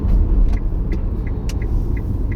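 A car drives along with a steady, loud low road rumble and engine drone, plus faint recurring ticks and clicks inside the cabin.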